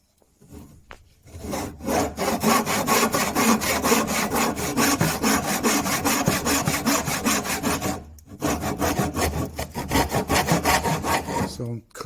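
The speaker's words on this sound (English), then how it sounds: "So I'm going to probably cut it this way round, grab a tenon saw, and let's do this." A tenon saw cuts through a wooden bed side being shortened during a sleigh bed restoration, with loud, close, rhythmic back-and-forth strokes, a brief pause partway through, then steady sawing again.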